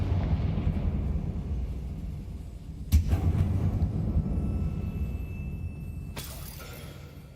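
A Confringo blasting spell in the Hogwarts Legacy video game bursts with a sharp blast inside a mine, followed by a later crack over a low rumbling background.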